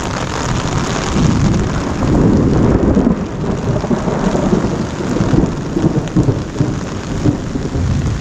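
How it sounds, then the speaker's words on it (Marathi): Heavy Konkan monsoon rain pours down loudly and steadily while deep thunder rumbles through it in long rolling swells, with no voices. "आणि आता असा पाऊस पडतो आहे गडगडट"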